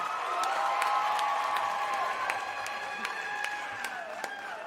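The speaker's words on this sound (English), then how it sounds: "Another round of applause." Graduation ceremony audience applauding, a broad steady wash of clapping with a few scattered cheers and whoops across a large hall.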